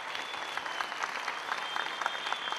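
An audience at a success-story event in Singapore claps steadily, a dense even patter of many hands heard fairly close and moderately loud, with no speech over it.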